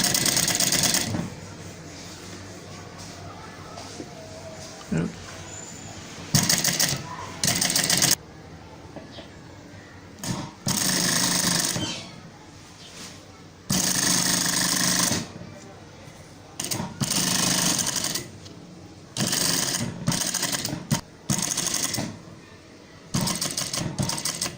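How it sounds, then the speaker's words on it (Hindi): A sewing machine stitches a pleated kurti in repeated bursts of fast mechanical whirring, starting and stopping with quiet gaps, while someone talks between runs. "ये देखो ऊपर से इसके ऊपर से हम सिलाई स्टार्ट करेंगे।"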